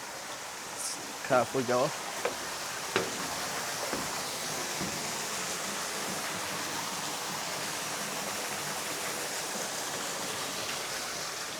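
A small indoor waterfall flows in a converted old factory space with a polished epoxy floor, a soft continuous trickle and rush. A person speaks briefly over it near the start, and then the water carries on alone.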